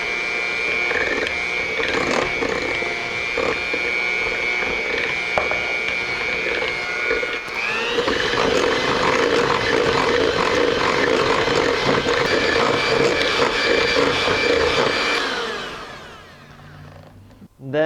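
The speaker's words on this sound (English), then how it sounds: "Incorporate half of the sugar into the egg yolk using an electric whisk." An electric whisk runs steadily for about fifteen seconds, beating egg yolks with sugar in a bowl, its pitch shifting partway through before it winds down and stops.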